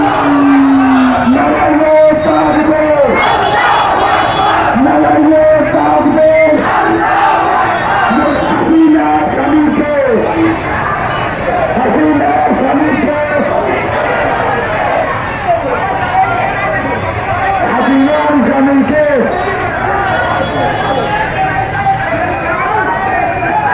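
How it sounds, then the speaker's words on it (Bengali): A celebratory street rally in central Kushtia fills the air with loud crowd cheering, chanting and babble, with rhythmic shouted calls rising and falling throughout, close and dense, with voices talking over it. "কুষ্টিয়ার আপামর মানুষ আজকে রাস্তায় নেমে তাদের আনন্দ উল্লাস প্রকাশ করছে"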